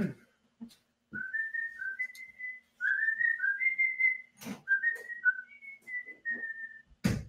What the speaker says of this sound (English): I'm going to include his whistling the Gamera theme in the episode somewhere